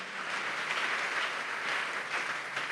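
A church congregation applauds in a steady, dense wash of clapping that stays even and fairly distant for a few seconds.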